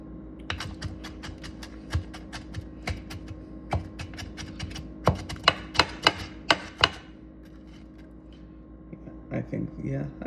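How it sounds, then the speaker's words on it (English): A kitchen knife minces an onion on a cutting board with quick, sharp, irregular chops that grow denser in the middle, close and crisp, over a faint background hum. "We're just trying to mince it up so it sautés easier in the pan."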